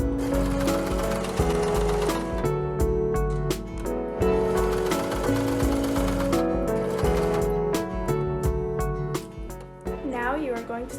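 A sewing machine stitches the edges of a filter pocket on a waterproof five-layer fabric face mask, its steady mechanical run continuing throughout under background music.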